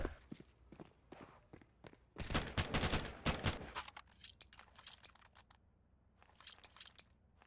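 Gunfire during a Counter-Strike match, with rapid bursts of close automatic shots and single cracks between quieter stretches of footsteps and clicking in the game.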